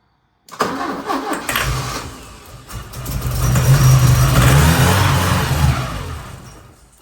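A 1980 Porsche 924 Turbo engine cranks and briefly catches on starting fluid, a loud continuous churning with a low rumbling surge that builds midway and then fades out.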